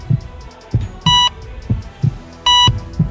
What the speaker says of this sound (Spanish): Un bip marcó el inicio.